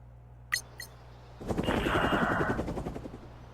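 Helicopters in the strategy game Supremacy WW3: two short clicks, then a sudden loud, rapid rotor chop that swells and slowly fades over a low background hum.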